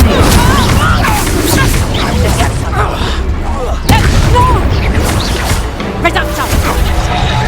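Fiery Incendio spell blasts in Hogwarts Legacy, a series of loud booming bursts and crackles amid dense combat noise and game effects, with a voice talking over parts of it.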